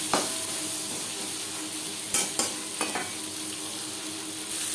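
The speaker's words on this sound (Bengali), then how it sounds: "লবণ হলুদ পটল আলুর সাথে বেশ ভালো করে মিক্স করে দেবো।" Potatoes and pointed gourd are stirred with salt and turmeric in a hot pan: a steady oily sizzle broken by a few sharp scrapes and clacks of the spoon, close and alone.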